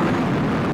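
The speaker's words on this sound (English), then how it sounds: "Thermonuclear warhead." Thermonuclear warhead detonating in the Space Engineers game, a loud, dense, roaring blast that fills the whole short moment at full strength before cutting off abruptly at the end.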